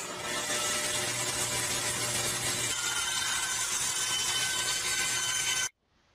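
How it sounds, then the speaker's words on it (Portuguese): A saw cuts with a steady, close, harsh buzzing rasp that holds for several seconds and then stops abruptly into silence. "Uma serra."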